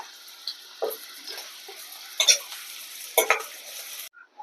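Curry leaves and two dry red chillies sizzle in hot oil in a pan with onion. Faint crackling is broken by a few sharper spits and pops, and the sound cuts out near the end.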